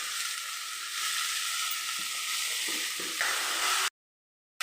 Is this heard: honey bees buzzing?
no